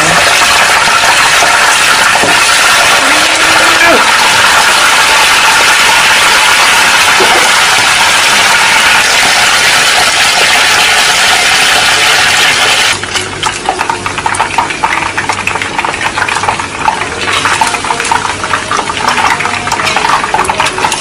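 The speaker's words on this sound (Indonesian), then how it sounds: "kita akan goreng sisa ayamnya tadi" Leftover chicken pieces fry in hot oil in a home kitchen, giving a loud, steady broadband sizzle and crackle that continues throughout and thins slightly toward the end.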